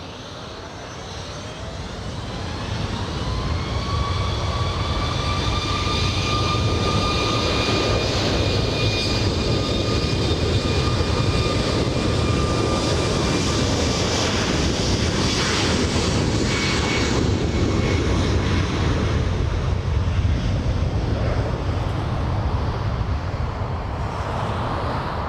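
A Southwest airliner takes off from runway 24 right at LAX, its engines rising to a loud, sustained roar with whining tones that hold steady, then fade slightly toward the end.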